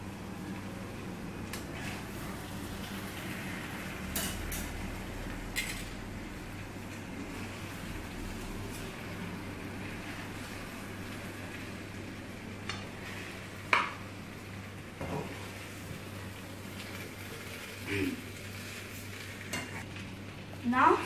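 Basmati rice is stir-fried in a pan for Schezwan fried rice, giving a quiet, steady sizzle with scattered scraping and stirring knocks of a utensil against the pan.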